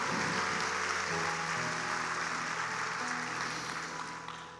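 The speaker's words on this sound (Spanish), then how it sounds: "denle un aplauso al Señor" A church congregation applauds during a sermon service, a broad, continuous wash of clapping heard from within the room with a sustained tone and voices underneath, gradually tapering toward the end.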